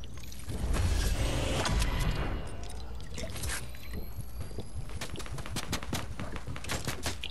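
Rapid bursts of gunfire from a Fortnite match, dense and loud at first, then continuing as a sharp, steady string of shots under a busy game soundscape.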